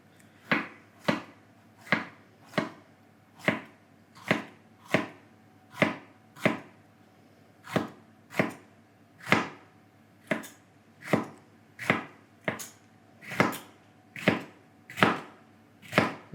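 Knife thinly slicing jalapenos on a board, about twenty crisp, even chops at a steady unhurried rhythm, close and distinct with short pauses between strokes.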